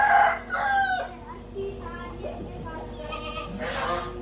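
A white rooster in a farmyard with goats crows close by and loudly, its drawn-out call rising and breaking into several bursts over a few seconds.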